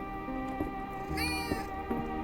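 A cat on a farm gives a few short, close meows in quick succession, fairly quiet, with no speech over them.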